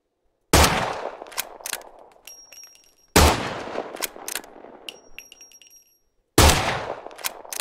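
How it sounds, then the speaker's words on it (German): Three sharp, loud gunshots in the video game SCUM, spaced a few seconds apart, each cracking out of silence and followed by a ringing, clattering tail and faint metallic tones. "Das muss ein gezielter Schuss werden."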